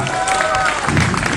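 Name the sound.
audience applauding the actors and team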